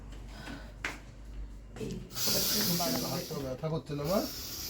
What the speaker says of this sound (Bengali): এখন হিট বাইরে স্প্রে করব কারণ বাইরে প্রচুর মশা